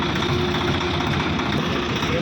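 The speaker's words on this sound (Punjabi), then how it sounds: "ਉਹ ਇੱਕ ਟਰੈਕਟਰ ਲੈ ਕੇ ਮੁੰਡਾ ਚੱਲ ਗਿਆ" A tractor engine drones steadily at low pitch, a continuous nearby rumble that holds even throughout the short stretch.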